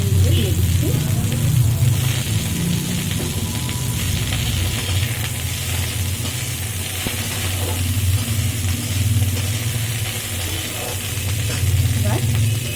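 Beans tipped into a pan of frying potatoes in a home Bengali kitchen, loud continuous sizzling and spattering oil with stirring scrapes, heard close and steady throughout.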